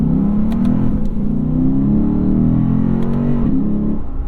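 A 2021 Lexus RC F with a 5-liter V8, locked in first gear in sport mode, revs loudly and continuously up close, its engine tone rising and falling in steady sweeps with no talking.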